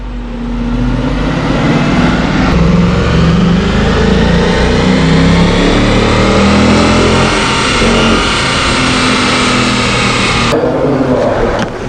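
A Ford Mustang GT 5.0 V8 accelerates hard in fifth gear, its engine roaring loudly and steadily with rising pitch over about twelve seconds, close and alone without talk.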